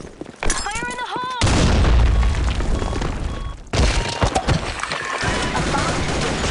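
Grenade explosion in a video game, a loud roaring blast that fills the scene for about two seconds, then a second burst of heavy debris and gunfire, following a brief shouted voice.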